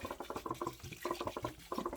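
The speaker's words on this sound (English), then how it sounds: "You want to bring your water level almost to where you're covering the berries, but not quite." Bottled water poured over elderberries in a container, a close gurgling, glugging flow in rapid pulses as the bottle empties.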